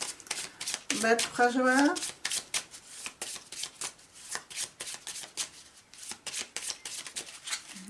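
A deck of cards is shuffled and a card drawn for a French-language card reading, with rapid, crisp riffling and flicking bursts running throughout, close and clear, under steady talk.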